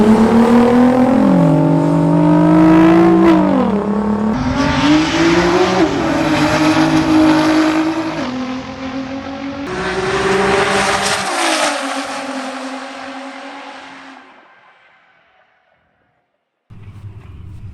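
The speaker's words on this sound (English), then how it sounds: "Last race, Honda versus Honda, GTR versus GTR" Street cars roll racing at an Alaskan event, Honda against Honda and GTR against GTR, engines roaring loud and close as revs climb and shift in repeated sweeps, then fading into the distance before a brief return.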